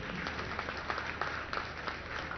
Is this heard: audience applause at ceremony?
yes